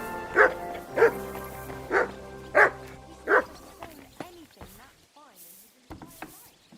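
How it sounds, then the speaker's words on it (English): A dog barks in the video game Kingdom Come: Deliverance II, five loud evenly spaced barks followed by a voice talking. "What are you barking for?"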